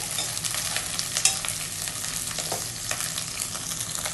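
Onion, green chilli and garlic frying in oil are stirred in a pan, giving a steady close sizzle with scraping stir strokes and a few sharp clicks, no voices.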